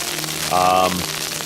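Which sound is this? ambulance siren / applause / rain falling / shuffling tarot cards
rain falling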